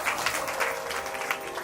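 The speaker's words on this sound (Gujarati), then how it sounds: "એકવાર જોરદાર તાળીઓથી આ નારાયણભાઈના આયોજનને વધાવો" An audience at a Ram katha gives a steady wash of applause, dense and even throughout, with no one speaking over it.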